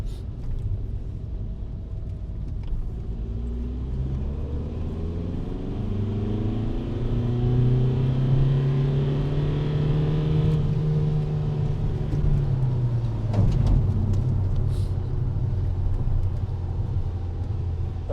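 A Volkswagen TDI car with a CP4 fuel pump accelerates in second gear after a downshift, its diesel engine rumbling and droning with revs climbing smoothly then easing off, heard steadily from inside the car at moderate level.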